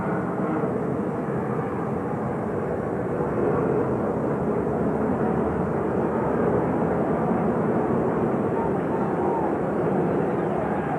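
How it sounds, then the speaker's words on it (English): An airplane takes off from LaGuardia airport, a steady distant engine roar that swells slightly under sports broadcast commentary. "plane of the night leaving LaGuardia takes off"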